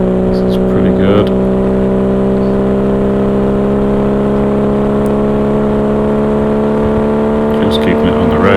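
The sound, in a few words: Triumph TR6 racing at full speed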